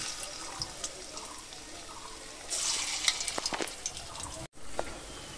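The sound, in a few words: frying Malabar spinach fritters (bora) in oil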